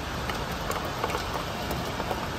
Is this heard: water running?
no